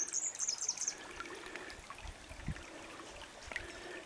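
A small river streams past a bank, a soft, steady wash of flowing water, fairly faint, with bird calls chirping over it at the start.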